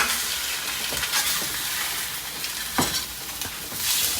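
Eggs sizzle and fry steadily in a hot pan as they are flipped one by one, with soft scraping clicks from the spatula breaking through the constant crackle, close and moderately loud with no talking.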